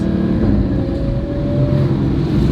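A Porsche GT4 sports car drives in first gear with a loud, steady engine drone and road rumble heard from inside the cabin, along with some wind noise.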